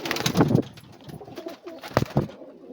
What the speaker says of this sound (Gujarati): આ રીતના આપણા કબૂતર છે કંઈક આવા.